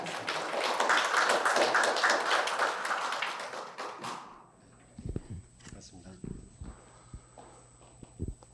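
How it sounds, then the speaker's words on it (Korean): Audience at a humanities lecture at Seoul National University claps in welcome, a dense burst of applause for about four seconds that fades, followed by scattered taps and quiet room noise. "최준영 대표님께 박수로 환영의 인사를 드리며 감사합니다"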